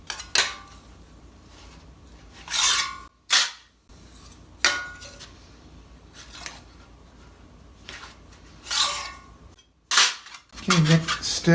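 Steel armor plate is hammered over the horn of an anvil, giving a series of sharp, loud metallic strikes spaced a second or two apart, each ringing briefly before the next.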